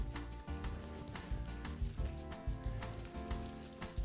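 Shredded cabbage tumbles into a pot of simmering chickpeas and pork ribs, giving dense, crackly sizzling broken by soft irregular thuds as handfuls drop in close by.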